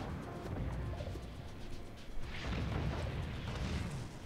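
Continuous rumbling explosions from a city being bombed in the video game Spore: dense, steady booms and crashes fill the whole stretch, with one sharper burst near the middle and no talk.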